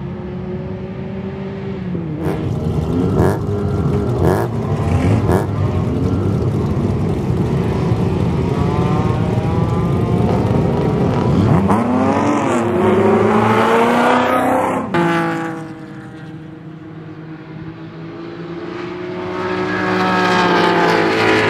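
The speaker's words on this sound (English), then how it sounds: "the owner and driver of Ford Mustang number 72, racing in American Iron here at Buttonwillow Raceway with NASA" Race cars in American Iron competition at Buttonwillow Raceway, Ford Mustang number 72 among them, roar loudly through repeated gear changes and rising engine pitch, a sharp shift and drop near the end before the engine builds again.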